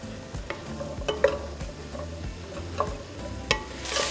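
Ground beef filling for chile rellenos is stirred as it cooks in a pan, with a steady low sizzle under repeated spoon scrapes and clacks against the metal, louder knocks recurring every second or so.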